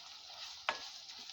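Sliced zucchini sizzles softly in a frying pan, a steady hiss broken by one sharp scrape as the pieces are stirred, close and quiet with no voices.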